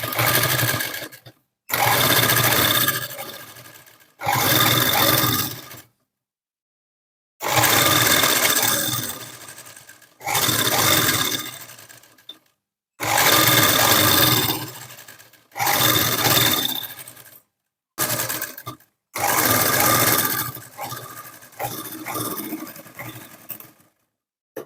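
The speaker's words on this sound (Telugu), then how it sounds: "సేమ్ దానిపైనే స్టిచ్ వేసేసుకోవాలి." A sewing machine stitches piping onto a blouse lining in repeated whirring bursts of a few seconds each, separated by short silent pauses, with no talking.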